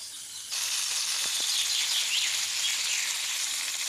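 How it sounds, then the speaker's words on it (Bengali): Bata and tilapia fish frying in oil in a village kitchen, a steady loud hiss and sizzle that jumps up sharply after a brief quieter start and holds evenly throughout, with no voices. "এখন আমি মাছগুলো ভেজে নেবো"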